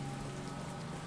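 A heavy rain downpour falls at an outdoor graveside, a steady, dense hiss of drops that is fairly soft and unbroken throughout the brief moment.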